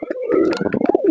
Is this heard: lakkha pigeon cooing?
yes